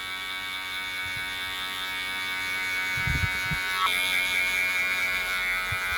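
Electric hair clippers run steadily on a man's head while cutting a short textured haircut with a low taper fade, a continuous close buzz whose pitch shifts partway through, with a few low bumps of handling.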